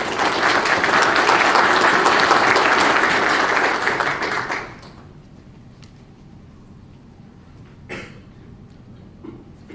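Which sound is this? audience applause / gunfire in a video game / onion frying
audience applause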